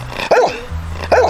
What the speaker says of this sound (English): Right, dog barking woof woof woof.